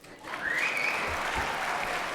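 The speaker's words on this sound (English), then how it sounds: "y'all can clap, go ahead" Audience clapping breaks out during a speech at a community humanitarian awards event, a steady round of applause from a crowd with a brief whistle or cheer near the start.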